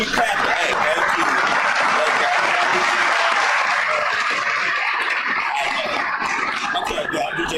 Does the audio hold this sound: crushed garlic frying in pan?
no